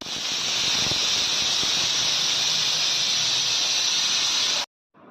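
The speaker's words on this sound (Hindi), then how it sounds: "तो कुकर में सीटी भी आ चुकी है" A pressure cooker whistle shrieks loudly and steadily while potatoes boil inside, a sustained hissing squeal that holds for several seconds before cutting off abruptly.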